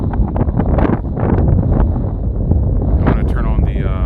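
Strong outdoor wind buffets a phone camera microphone, producing loud low rumbling gusts and crackling bursts that rise and fall over a few seconds, with no voice heard.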